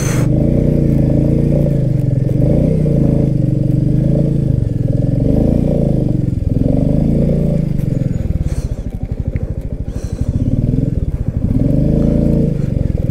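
Motorcycle engine labouring continuously along a muddy mountain road, loud and close throughout, with steady low rumble, occasional revs and clattering as the wheels slip.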